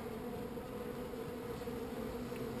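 Honey bees hum at an open hive during an inspection, a faint but steady buzzing drone with no voices over it.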